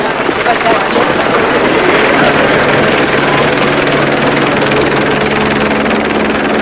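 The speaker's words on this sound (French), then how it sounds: "Ce n'est qu'un hélicoptère des actualités." A news helicopter passes overhead, a loud, continuous rotor and engine roar with a broad rumbling texture, steady throughout, with a voice speaking over it.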